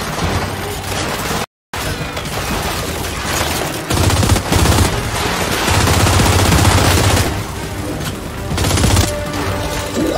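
Rapid bursts of automatic gunfire in the video game Gears 5 crackle continuously, with a brief dropout of silence early on, then heavy sustained shooting and booms.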